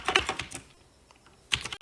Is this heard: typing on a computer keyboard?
yes